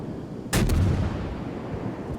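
A warship's main-battery salvo in World of Warships booms once, a deep heavy blast with a quick rolling follow-up report, then rumbles away into a low steady background hum.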